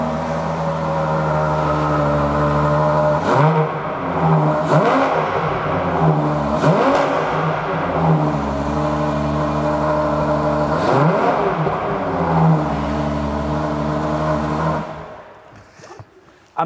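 A Ferrari Purosangue V12 runs loud and close, holding a deep idle broken by several quick rising revs before it cuts off near the end.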